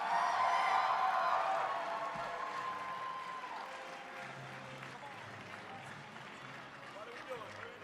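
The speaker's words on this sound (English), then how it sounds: "Give them a huge round of applause." Audience applause and cheering at the 2020 Crown Championships of Cosplay at C2E2 in Chicago, a faint, distant crowd clapping that fades gradually, with a voice on the speakers at the start.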